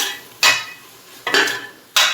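A utensil scrapes and clatters against a pan in three short, sharp strokes as biryani masala is mixed into vegetables for a paneer veg biriyani, with quiet gaps between strokes.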